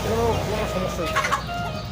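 Free-range native chickens cluck softly in short bursts close by, over a steady background murmur.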